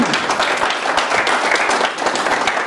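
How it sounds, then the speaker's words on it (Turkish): An audience applauds a saz ensemble at a Turkish music event, with thick continuous clapping from many people, steady and loud with slight swells. "Saz ekibime kuvvetli bir alkışlıyorum sizden"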